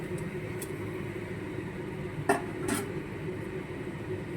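A lid goes onto a pan of simmering fish curry with two quick, faint metallic clinks over a steady low kitchen hum.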